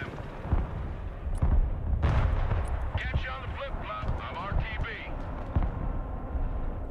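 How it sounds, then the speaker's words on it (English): Artillery fire in the Broken Arrow war game: repeated heavy booms and crackling blasts scattered across the battlefield, moderately loud, with someone talking over the barrage. "Alright, artillery's showing up."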